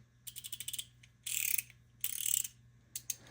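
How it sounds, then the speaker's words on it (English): The 6-point ratcheting mechanism of a flex head tube wrench clicks up close: a quick run of rapid clicks, then two longer buzzing ratchet spins, and a couple of final clicks, with no talk. "That's what the ratcheting mechanism sounds like. And it's a 6-point ratcheting mechanism."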